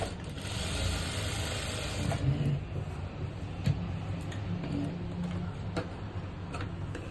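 A sewing machine stitching the side opening of a chudidar top runs in a steady close mechanical whir with light ticking, carrying on without a break and no talk over it.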